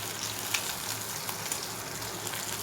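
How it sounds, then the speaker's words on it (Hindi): Food being fully fried in a pan, giving a continuous close crackling sizzle with small pops throughout and no talk. "मैं फुल फ्राई कर रही हूँ इसे"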